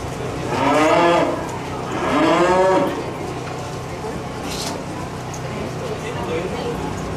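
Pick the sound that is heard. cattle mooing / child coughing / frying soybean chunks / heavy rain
cattle mooing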